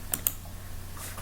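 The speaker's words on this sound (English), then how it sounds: "typing this command." Two sharp computer keyboard keystrokes near the start and a softer burst of key presses toward the end, close and clear over a steady low hum while a Unix command is typed.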